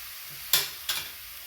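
Roasted masala for soybean fry is stirred in a hot pan: two quick scraping strokes stand out over a faint, steady sizzle.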